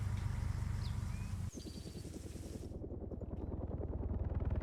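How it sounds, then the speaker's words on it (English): An Mi-8 helicopter flying in a combat video game match, its rotor thumping steadily with engine drone, shifting abruptly partway as the view changes, no talking. "Mi-8 now coming on the right side of one of the Hueys"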